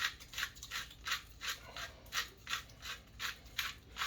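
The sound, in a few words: pepper grinder grinding pepper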